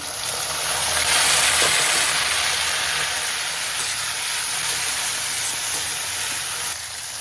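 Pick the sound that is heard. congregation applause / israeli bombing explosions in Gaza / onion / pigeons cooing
onion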